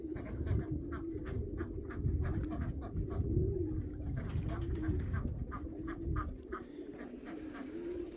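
Racing pigeons coo and murmur continuously in a loft in Lithuania, a dense, soft, layered rumble of many birds close by, with light rustling and occasional wing sounds.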